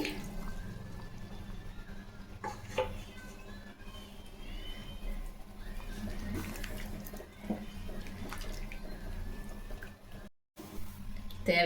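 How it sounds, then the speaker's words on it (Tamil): A little water is poured into simmering mashed dal for tomato kuzhambu, a faint, soft liquid splash and trickle with low bubbling in a quiet kitchen. "தண்ணி கொஞ்சம் ஊற்றி அழைச்சி"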